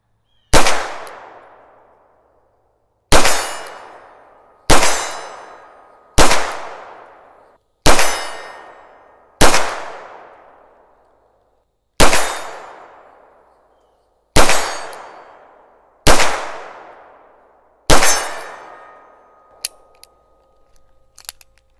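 Ten sharp gunshots from a stainless Beretta 92FS pistol at an outdoor range, fired one at a time at irregular intervals with short ringing tails, loud and close, with no talking.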